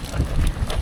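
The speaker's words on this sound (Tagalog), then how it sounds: "Lakas ang hangin kasi." Strong wind buffets the microphone at a beach in Pangasinan, a steady low rumbling roar with gusty swells throughout and no talking.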